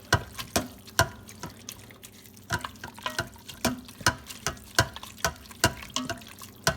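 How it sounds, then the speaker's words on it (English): Shredded pork carnitas are stirred and soaked in their juices in an Instant Pot, giving wet squelching clicks and drips in an irregular run of soft, close sounds. "Every little piece of meat is gonna get some of that juice."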